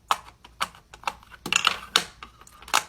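Sharp little clicks and pops sound one after another at an uneven pace, crisp and close, as the bubbles of a hard-shell pop-it fidget toy are pressed.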